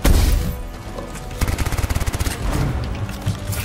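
Gunfire from Anthem opens with a loud blast, then a rapid burst of evenly spaced shots rattles close by before more scattered booms follow.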